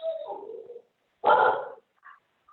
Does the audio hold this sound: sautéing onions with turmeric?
no